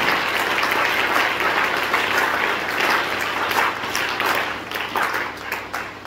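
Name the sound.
congregation applauding for Jesus in church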